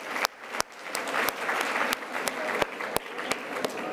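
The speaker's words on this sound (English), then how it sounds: "giving a big round of applause to everyone we've heard from so far today" Audience applause at a healthcare conference, a sustained crowd of clapping hands filling the room, steady and fairly loud with a few sharper claps standing out.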